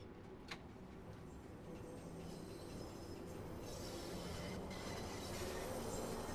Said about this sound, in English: Yeah, that's a typical sound you hear on the tube.